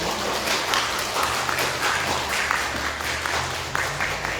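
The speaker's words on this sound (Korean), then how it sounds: "따뜻하게 환영하며 박수로 축하해 주시면 고맙습니다" A Korean church congregation at Sunday worship applauds newly appointed deaconesses as flowers are presented, a continuous wash of clapping over a low room hum.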